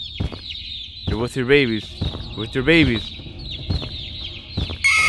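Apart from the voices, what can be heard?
chickens clucking in video game Garten of Ban Ban 2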